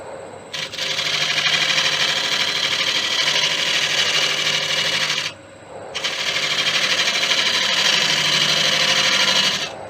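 A carbide tool scraping a spinning Tigerwood blank with resin problems on a wood lathe, a loud, close, gritty hiss in two long cuts separated by a short pause.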